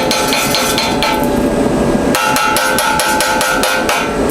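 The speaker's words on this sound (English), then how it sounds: "I got my chipping hammer" Rapid metallic chipping hammer strikes knocking slag off a 7018 stick weld, a steady run of sharp close knocks, getting denser and louder partway through.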